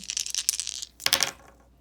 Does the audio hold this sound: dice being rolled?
yes